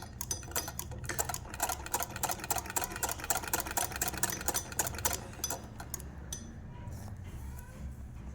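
A sewing machine stitches fabric in a rapid, even clatter of needle strokes for about six seconds, then stops and leaves a quiet room. The sound is close and clear.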